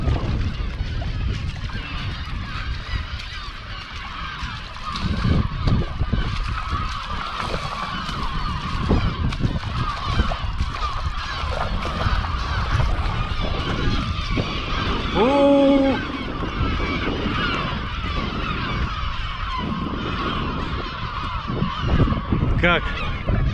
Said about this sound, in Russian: Чайки детей защищают очень хорошо, плотно, он уже орут.